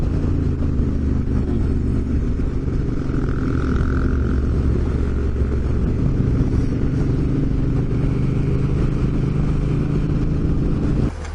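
A Suzuki DRZ400 motorcycle ridden along a road gives a loud, continuous engine rumble with wind noise. The pitch shifts slightly as it rides, and the sound cuts off right at the end.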